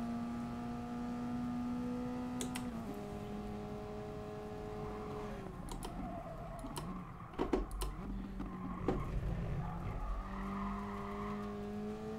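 A race car engine in Gran Turismo Sport drones and shifts pitch through gear changes, with repeated tyre squeals and skids, plus a few sharp clicks, all steady and moderately quiet.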